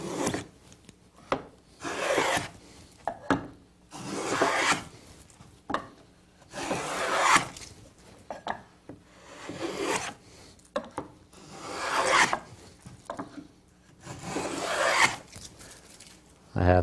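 Tongue and groove hand plane cutting wood in a series of rasping strokes, each rising and fading in a steady back-and-forth rhythm at close range, with a voice talking between strokes.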